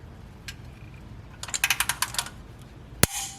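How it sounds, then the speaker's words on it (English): Quiet ratcheting clicks in a rapid run, followed by a single sharp, loud metallic click near the end as a torque wrench reaches set torque during an oil change on a Toyota FJ Cruiser, close by in a quiet room. "stick the ratchet onto the torque wrench and torque it to spec"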